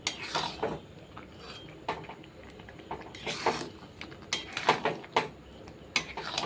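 Mango pickle being stirred in a pan over low heat, a spoon scraping and clinking against the metal in uneven bursts, fairly close and alone with no talk.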